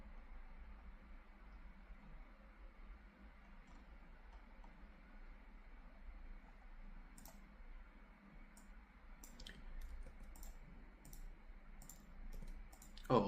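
A computer mouse clicks faintly in a quiet room. A scattering of light, sharp clicks comes in the second half over a soft background hiss.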